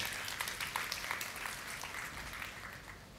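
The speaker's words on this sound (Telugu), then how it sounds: "చప్పట్లు కొట్టండి." A church congregation claps during a sermon, a faint, dense patter of many hands that swells slightly and then fades, heard from a distance.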